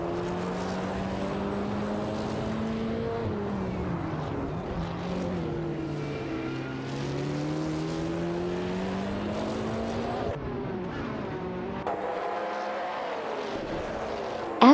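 Engines of racing cars in a video game in a tight battle for 12th place, droning and rising and falling in pitch as they shift, loud and continuous with no talking.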